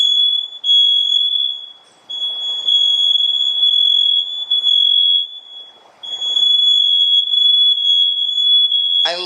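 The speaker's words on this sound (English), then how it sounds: "The smoke alarm is going off." A home smoke alarm set off while grilling jalapeño grilled cheese, a loud piercing high beep sounding continuously in long stretches with short gaps, indoors and close, with no talk.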